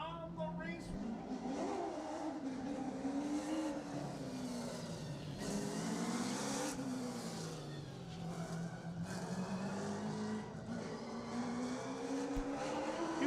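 Race cars roar around a track during heat races, engines revving and pitching up and down as they lap steadily, with voices talking over the racket.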